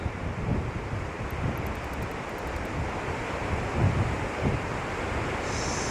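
Strong wind roars across an exposed ridge on the Arizona Trail on a cold day, a steady loud broadband rush with gusts swelling and buffeting close to the microphone, with no talk.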